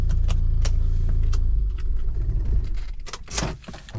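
A Tata Safari Storm 4WD engine idles with a loud low rumble that cuts out as it is switched off, followed by jangling keys and clicks near the parked vehicle.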